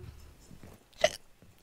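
A single sharp hiccup from a girl sounds midway through, brief and clear against quiet background noise and faint earlier murmuring.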